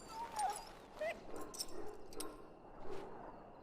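A diseased dog in the fantasy video game Dragon Age: Origins whimpers and whines in soft, short, high cries against a low background hum, faint and close, with no talk over it.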